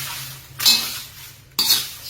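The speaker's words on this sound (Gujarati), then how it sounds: "આવી રીતે તવીથાથી ફેરવતું રહેવાનું।" Two distinct metal spatula strokes scrape across a pan of whole spices dry-roasting for a winter garam masala. A soft background hiss runs between the strokes, and no one speaks.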